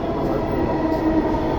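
A Dhaka metro rail train pulls into the station, its rolling rumble and rail hum filling the short stretch at steady, fairly loud level.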